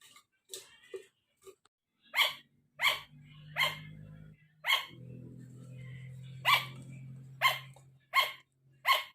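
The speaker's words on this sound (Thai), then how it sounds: "นี่คือเสียงชุกก้าเห่านะคะ" Pet sugar gliders barking in a home setting: a series of sharp, repeated yapping barks spaced about half a second apart, near and fairly loud over a low background hum.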